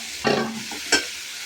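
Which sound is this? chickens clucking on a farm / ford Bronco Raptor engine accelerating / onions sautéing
onions sautéing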